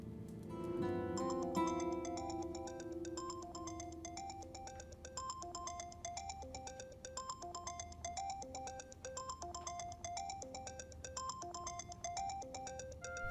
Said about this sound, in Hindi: अम्मी की कॉल आ रही है।